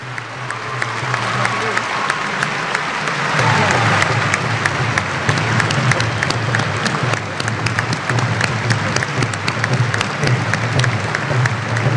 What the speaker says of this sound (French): Je vous invite donc à vous tenir debout pour les magnifier par des